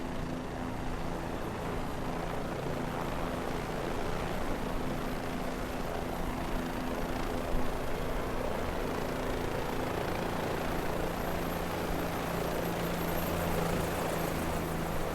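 A helicopter flies over Easter Island in a flight simulator game, its rotor and engine giving a constant, even droning hum at moderate level throughout, with no talking.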